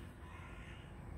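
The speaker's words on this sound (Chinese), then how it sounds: "乌鸦叼着面包跑了" A crow caws once, a brief harsh call out in the open near gulls and a heron, fairly faint against background noise.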